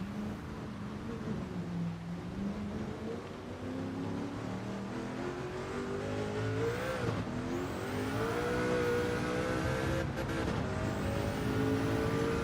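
A race car at Le Mans in the Gran Turismo 7 video game drones along with a continuous engine tone that climbs and shifts in pitch as it accelerates and changes gear.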